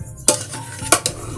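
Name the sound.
gently mixing chicken dum biryani in a pot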